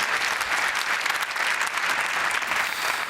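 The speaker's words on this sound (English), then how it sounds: "Big round of applause, please," A crowd at the Ford Focus RS global reveal event in Cologne applauds steadily, dense clapping from many hands at an even, loud level throughout with no voices on top.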